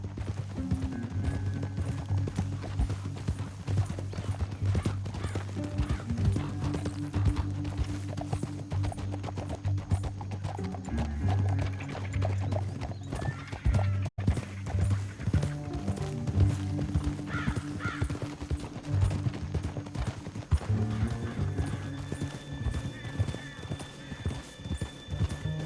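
Horses gallop in Red Dead Redemption 2 in a continuous rapid clip-clop of hooves, with occasional whinnies and a busy soundtrack-like backdrop throughout.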